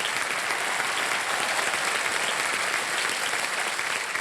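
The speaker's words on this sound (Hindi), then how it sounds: "तालियां बज जाए उनके लिए।" Studio audience applause on the KBC quiz show, a continuous, even roar of many hands clapping together at a steady, fairly loud level with no talking.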